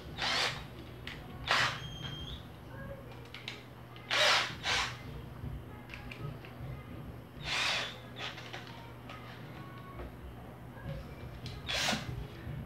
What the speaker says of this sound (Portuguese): Vamos começar aqui parafusando para você ver aí no passo a passo.